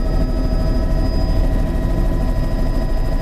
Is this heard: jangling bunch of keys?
no